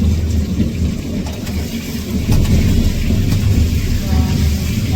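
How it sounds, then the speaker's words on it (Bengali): Deep thunder rolls through a heavy rainstorm, a continuous low rumble that swells slightly midway and stays loud and steady for the whole stretch. "এই যে মেঘের আওয়াজ"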